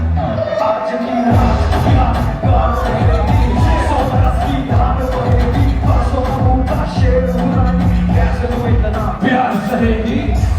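Lively crowd at a film promotion event cheering, shouting and making noise continuously over loud music, with voices and babble mixed throughout the din.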